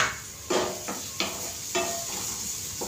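Ginger garlic paste being sautéed for pav bhaji, with a close sizzle broken by four or five quick spoon scrapes and stirs against the pan over three seconds, no voices.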